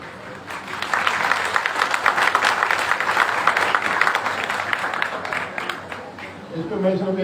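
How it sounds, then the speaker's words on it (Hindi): Lecture audience applauding: a sustained wash of many hands clapping for several seconds at steady intensity, fading out near the end as a voice begins speaking. "इस पर मैं सिर्फ एक कमेंट करूंगा आपकी तालियों पे"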